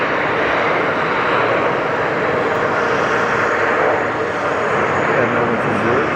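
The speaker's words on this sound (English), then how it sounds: "there's so much noise from this A380 beneath us" Loud, steady jet engine roar from an Airbus A380 passing close overhead at JFK airport, a broad continuous rumble filling the whole stretch with slight swells in level, with a voice speaking faintly underneath.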